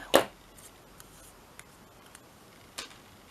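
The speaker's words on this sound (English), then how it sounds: "Cut a little bit off" Scissors cutting paper for a scrap dangle embellishment: one sharp, close snip at the start, followed by a few faint light clicks and taps in a quiet room.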